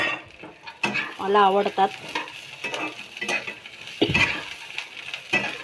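Green chilies, peanuts and garlic roasting in a pan, with soft sizzling and the scrape and clatter of a spoon stirring them in short bursts; someone speaks briefly over the cooking.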